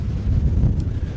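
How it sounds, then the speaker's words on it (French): Strong wind buffets the microphone outdoors at sunset, a loud continuous low rumble with gusting swells and no voices. "Donc là le vent est absolument infernal."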